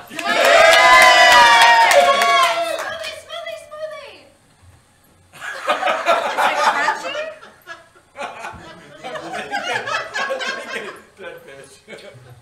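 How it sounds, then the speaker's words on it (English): A live game-show studio audience cheers, whoops and laughs as contestants eat jelly beans, some of them dead-fish flavoured. The crowd noise comes in loud, dense bursts with short lulls between them. "Cheer them on, everyone!"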